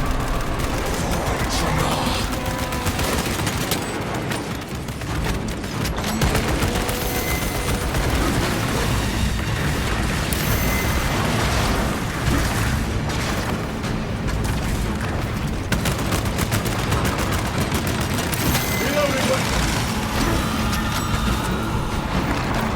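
Dense, sustained video game combat din of rapid gunfire and heavy booms aimed at a Neurothrope creature, loud and continuous with no clear pauses.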